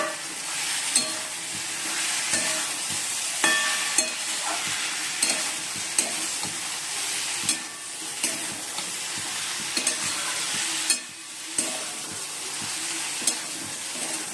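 Ground cumin and coriander being sautéed with fried potato and okra in a pan, a steady loud sizzle broken by regular scraping strokes of a spatula, close up and free of speech.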